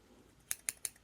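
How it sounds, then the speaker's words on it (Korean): Scissors trim the glued parts of a pipe cleaner doll, giving three quick, crisp snips in a row close to the microphone against a quiet background. "가위를 사용해서 이런 본드 묻은 부분들이나"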